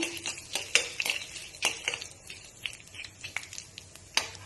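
Cardamom and cloves being stirred in a pan, with sharp, close metal-spoon scrapes and taps against the pan over a faint background hiss, irregular and brisk.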